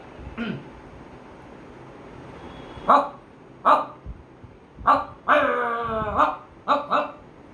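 About eight sharp dog barks imitated by a person's voice come in uneven bursts, one stretched into a longer whining yelp, with quiet gaps between them.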